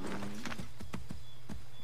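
Horse in the Assassin's Creed 3 video game: a handful of close hoof thuds in an uneven clip-clop, with a short low whinny-like tone at the start over a steady background hum.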